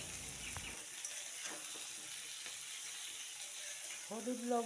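Peeled pointed gourd frying in a pan with turmeric and salt, a steady faint hiss of oil throughout, with a brief clatter near the start and a short high squeaky sound near the end.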